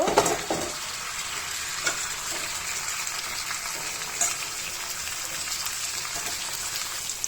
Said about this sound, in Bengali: এখন আমি ইলিশ মাছগুলো দিয়ে দিব